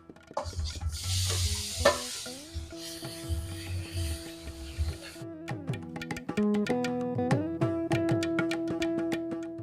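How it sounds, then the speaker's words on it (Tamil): Grated carrot and nuts sizzle in ghee as a spoon stirs and scrapes the pan, a close, steady frying hiss over clinks and rhythmic scraping. "இப்போ இதுலேயே வந்து துருவி வச்சிருக்கிற கேரட்டையும் சேர்த்துடலாம்"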